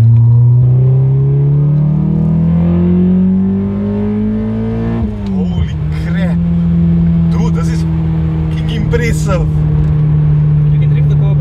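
A tuned all-motor Honda Accord engine pulls in third gear around 3,000 RPM, a loud droning note that climbs steadily, dips briefly and settles into a steady hum, with voices talking over it.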